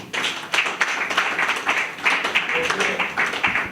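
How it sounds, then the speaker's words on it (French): A crowd at a political gathering claps in uneven bursts for several seconds, fairly loud, with distinct hand strikes standing out over the general noise. "Si c'est vrai, applaudissons."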